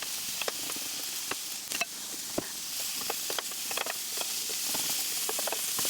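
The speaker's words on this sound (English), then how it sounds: "throw in the eggs" Eggs frying in a pan alongside crispy bacon in butter: a continuous quiet sizzle with scattered sharp crackles and spits, close up, with no voices.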